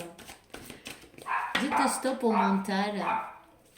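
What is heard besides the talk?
dog barking indoors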